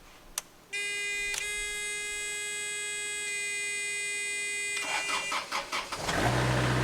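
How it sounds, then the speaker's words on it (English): A Nifty Lift SD64 lift starts with a sharp click, then gives a steady tonal buzzing hum that holds for several seconds before rattling bursts as the engine fires up and settles into a running rumble. "And then we can start the machine."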